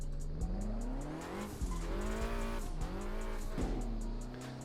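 A car drifting in the Midnight Racing Tokyo video game, its engine revving and falling in repeated surges while tires squeal through long slides, loud and close with no talk.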